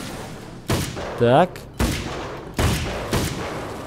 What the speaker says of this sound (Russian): нифига себе им стрельбанул